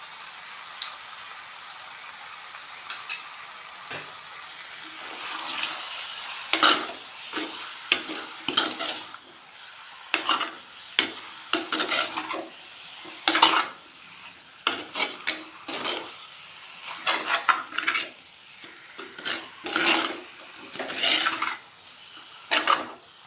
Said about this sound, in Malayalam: ഇറച്ചി ഒരു പകുതി വേവ് ആവുന്നത് വരെ ഇതിൽ കിടന്ന് വേവേണ്ടതുണ്ട്.